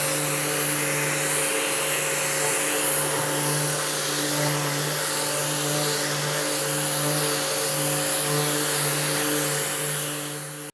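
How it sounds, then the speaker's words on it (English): Steady whirring drone of a power sander flat-sanding the back of a shaker-style wooden cabinet door, continuous and fairly close, with no talking. "So here's what it looks like sanding on the back side"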